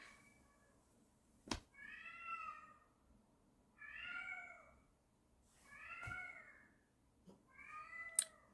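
A pet cat meows four times in drawn-out, rising-and-falling calls spaced about two seconds apart, close and clear against a quiet room, with a couple of sharp knocks in between.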